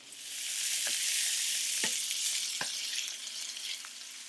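Steak for street tacos frying in a pan, a steady, hissing sizzle that swells then eases slightly, broken by a few sharp clicks and pops, with no talking.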